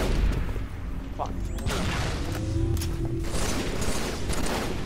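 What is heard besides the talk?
gunshots in a video game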